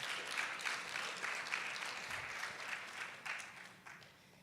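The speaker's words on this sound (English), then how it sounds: "we need to give ourselves one more round of applause" Audience applause closing a Women's Dialogue panel at an International Women's Day 2025 event, a soft, steady patter of many hands heard from a distance, fairly quiet and unbroken for several seconds with no voices over it.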